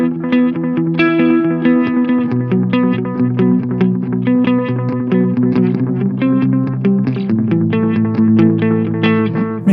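Distorted electric guitar played through a Dupe Delay pedal, sustained chords and notes ringing with repeating echoes and chorus-like shimmer, loud and continuous with no talking.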